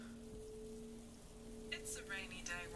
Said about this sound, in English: It's a rainy day once again, and more showers are to be expected in the near future.